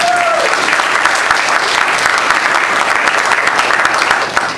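Crowd at a live jazz band set clapping for a bass player: sustained, loud applause filling the room for several seconds before fading slightly at the close.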